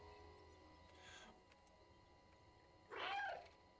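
A cat meows in the video game Stray, one loud, close meow near the end, with a softer sound earlier over a quiet background.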